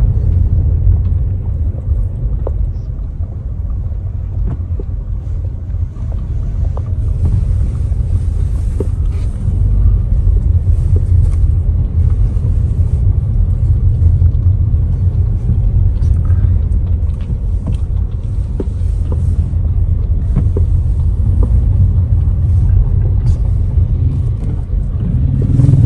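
Slow road traffic with vehicles and horses moving in a line through a blocked street, heard as a steady, loud low rumble of engines with wind buffeting the microphone and no clear hoofbeats standing out.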